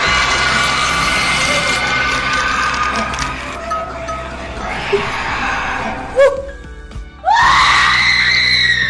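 Corpses in a ghost film scream together in a loud, sustained chorus of shrieks, followed by a couple of sharper individual cries near the end.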